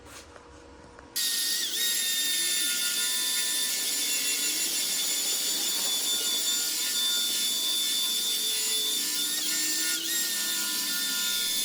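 An angle grinder with an abrasive disc scours a steel surface before angle iron is welded on, giving a continuous high grinding whine with a scraping edge that starts abruptly after a second and holds steadily, near and loud, no voices.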